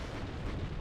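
A BMP-2 infantry fighting vehicle blown apart in WARNO, a short dense rumbling explosion, loud and sustained with no pause.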